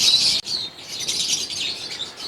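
Albino and lutino personata lovebirds in an aviary give off dense, high, overlapping chirps, a busy nearby chatter that keeps going without pause.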